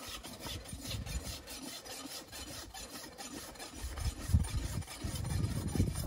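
A farrier's rasp drags across a horse hoof in repeated rough, scraping strokes, fairly faint and close, growing a little louder and coarser toward the end.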